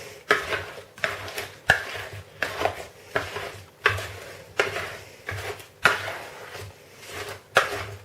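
Sliced apples get mixed into cake batter in a bowl, a utensil knocking and scraping against the bowl in a steady rhythm of about a dozen strokes, nearby and with no talking.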